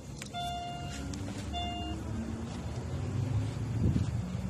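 A car engine idles steadily at low pitch in a workshop, a continuous rumble with a few faint high beeps early on, ready for a fuel injector current test.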